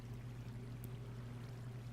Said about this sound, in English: I can hear the water going right now